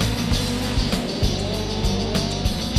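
Sprint cars race on a dirt track during a Sprintcar Speedweek round, their engines roaring loud and close in a steady, harsh drone, with brief surges and shifts in pitch as the cars power through the turn.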